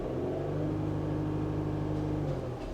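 A Gen 2 Pentastar V6, running smoothly on all six injectors, holds a steady, loud, close engine drone as it is given gas, with a slight lift in pitch and no talking.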